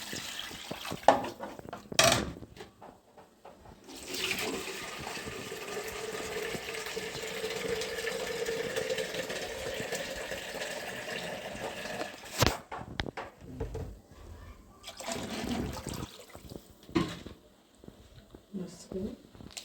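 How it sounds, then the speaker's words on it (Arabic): Hot water pours into a cooking pot of sautéed beans in a home kitchen, a steady splashing run amid clinks of pots and utensils, with someone talking over it. "ازودها بقى عندي ميه سخنه"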